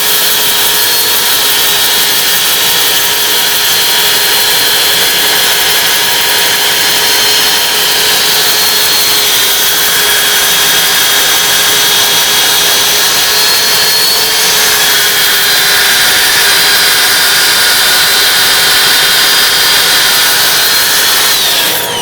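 A power sander works over a cured epoxy bowl, its steady high whir holding level and continuous throughout with a faint rubbing scrape of paper against resin.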